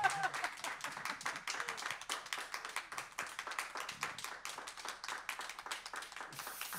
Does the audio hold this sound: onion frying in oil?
no